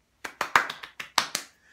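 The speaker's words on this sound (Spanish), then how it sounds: "Un aplauso, un aplauso para todos los que cantaron" During a kindergarten music-and-story class, a few sharp, separate claps ring out close by in an uneven run of about nine beats, then stop, leaving near silence.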